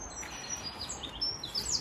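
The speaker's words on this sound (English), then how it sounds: "Beautiful birds" Small birds sing outdoors beside an old garden shed: faint, scattered high chirps and tweets over a soft, steady background hiss.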